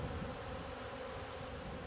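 Honey bees buzzing inside a jar during a powdered-sugar dust test for varroa mites, a close, dense, continuous hum that stays steady throughout, with no talking.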